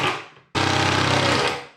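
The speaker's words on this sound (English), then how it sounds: "But I'm going to screw it down anyway." A power driver sinks a screw into a wooden deck board on a small trailer, with a steady loud whirring buzz lasting about a second after a brief earlier burst, close and without voices.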